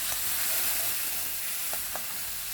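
Continuous hissing sizzle of golden-brown ginger frying in a pan, with a few brief clinks and stirring sounds as chopped tomatoes go in, steady and close with no talking.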